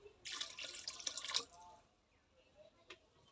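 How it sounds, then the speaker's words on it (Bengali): Water poured into a cooking pot for pulao rice, about a litre, a bright splashing stream for over a second, then fading to faint trickles and a last drip. Close and moderately loud, with no talk. "আমি এক কেজি জল দিয়ে দেবো"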